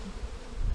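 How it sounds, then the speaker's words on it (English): Honey bees buzz steadily around a hive during a move from a top bar hive to a Langstroth box, a low, dense hum that swells slightly near the end. "watch now how the bees will start going onto the new box really quick"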